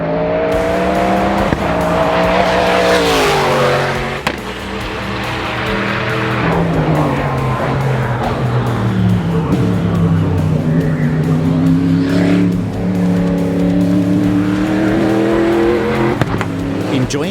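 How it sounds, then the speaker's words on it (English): A Camaro time attack race car roars at full speed down the Road Atlanta straight toward turn 10A, with a loud, continuous engine note whose pitch climbs and drops through gear changes. "the Camaro managed 191 miles per hour on the straight going into turn 10A"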